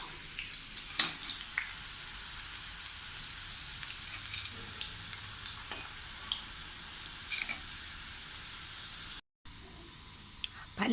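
Jackfruit chips deep frying in hot oil give off a steady, dense sizzling hiss that runs unbroken through the whole stretch, with a few soft stirring clinks and a momentary dropout near the end.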